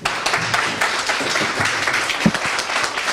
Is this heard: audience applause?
yes